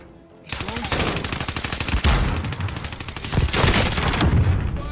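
Rapid automatic gunfire in a video game, loud and sustained in dense bursts for most of the clip, with voices talking over it.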